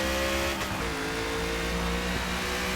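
A 1968 Mustang with a 6.4L V8 Demon engine in Forza Motorsport accelerating hard out of a turn, a loud sustained engine roar with rising revs and a gear change midway, heard close and alone.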